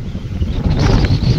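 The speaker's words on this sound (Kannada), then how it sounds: "ಗಾಳಿ ಮಾತ್ರ" Strong wind gusts buffet the microphone outdoors at night near a railway line, a loud continuous roar with rumbling bursts and no voices.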